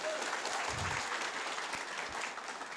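Audience applause at a Successmore business meeting, a steady wash of many hands clapping at once that holds evenly for nearly three seconds with no voices over it.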